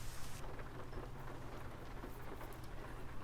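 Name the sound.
rain in a video game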